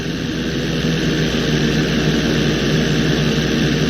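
A steady, loud airplane engine roar with a constant broadband drone from the GTA V video game, heard alone with no talk as the plane performs an inside loop.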